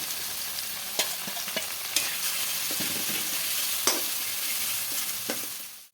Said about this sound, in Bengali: খুব ভালো করে মশলাটা কষিয়ে নিয়েছি